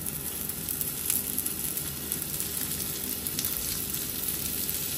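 Vegetable seekh kebabs roasting in butter sizzle steadily and closely, a continuous crackling fry with scattered sharper pops and no voices over it.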